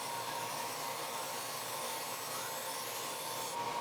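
Belt sander putting a point on a wooden dowel and softening its corners, a steady, loud broadband whir and rubbing grind that holds continuously with no talk.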